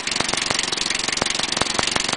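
Ford 8N tractor engine revved while driving its generator, a loud, steady running drone with a rapid regular pulse and sharp periodic knocks, no voices.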